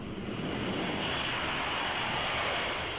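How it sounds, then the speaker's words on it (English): An F-35B fighter jet taking off from a runway, heard as a steady, loud, broadband engine roar that stays constant throughout with no speech over it. "literally just click a button, and then the plane will take off by itself"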